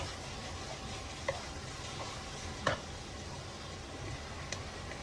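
Spaghetti sauce seasoned with salt and ground pepper is stirred in a pan, a soft, continuous scraping and light sizzle with a few faint clicks of the utensil against the pan.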